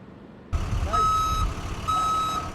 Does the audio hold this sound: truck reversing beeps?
yes